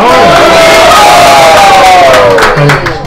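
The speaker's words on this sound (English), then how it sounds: "Let's give big round of applause." A devotional gathering's audience erupting in loud cheering and shouting with applause, a close, intense crowd roar with raised voices sweeping in pitch, fading slightly near the end.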